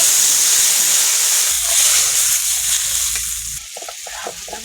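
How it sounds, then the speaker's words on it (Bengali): Water hits a hot pan of fried onion, garlic, green chilli and spice paste and erupts into a loud, fierce hiss, then a bubbling sizzle that eases off over a few seconds. "জল দিয়ে দেবো।"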